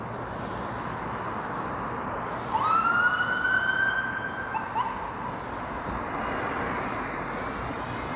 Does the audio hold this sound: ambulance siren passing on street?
yes